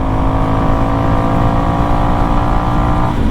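A Honda CRF dirt bike with a drilled airbox lid and DNA air filter pulls in sixth gear under a steady throttle roll-on, a loud, continuous engine drone with rising pitch, mixed with wind noise.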